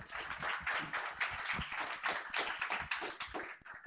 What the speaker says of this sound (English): big round of applause for Geoff